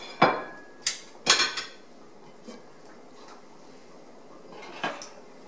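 Metal lid clanks onto a pot of stewing chicken thighs, a few sharp clatters in quick succession, then quieter knocks as it settles, close and alone.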